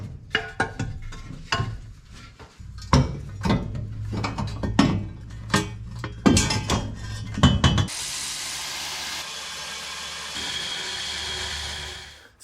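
Header bolts get tightened with a ratchet on an LS-swapped 1952 Chevrolet, giving bursts of close clicking and metallic ratcheting with pauses between runs, followed by a steady hiss.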